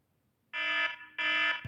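Two loud, harsh emergency alert system alarm bursts, each about half a second long with a buzzy, layered tone, sound in quick succession out of near silence.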